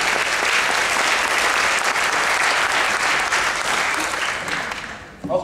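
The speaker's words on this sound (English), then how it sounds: "So let's give them a round of applause" An audience at the June Bug Jam 2017 gives a loud, continuous round of applause for supporters, dense and even throughout before tapering off at the close.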